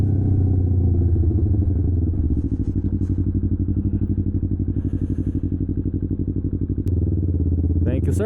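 Rebuilt Yamaha R3 motorcycle under way, a steady close engine drone with rapid crackling exhaust pops and a few engine pitch changes, heard alone.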